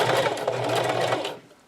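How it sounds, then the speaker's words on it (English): A sewing machine running a straight stitch to attach lace onto a thermal camo shirt, a fast steady mechanical whir close by, lasting just over a second before winding down. "I've just got this on a straight stitch, probably about number 3 on my machine."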